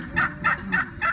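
Turkeys gobble four times in a steady rhythm during spring courtship, each burst a bubbly rattling call over a low, busy background of farmyard murmur.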